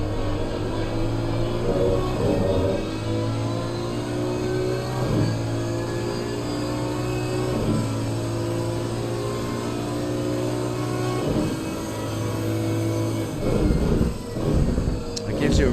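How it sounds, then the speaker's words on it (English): GT3 race car engine in Assetto Corsa Competizione at Snetterton, heard on board as a steady loud drone with repeated shift and rev changes, running continuously under a voice talking throughout. "Okay, listen to the engine, ladies and gentlemen."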